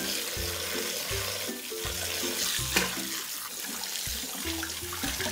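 Running cold tap water splashes steadily into a sink, with soft clinks and sloshing as boiled noodles are rinsed under the stream.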